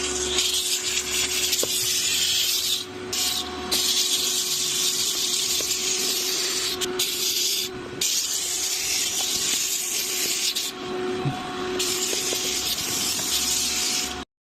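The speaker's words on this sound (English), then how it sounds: "So I'm gonna steam clean now." A steam cleaner hisses steadily while working on stains in the cracks and crevices of a car's driver-side interior, a loud continuous spray with a faint machine tone underneath and a few short breaks.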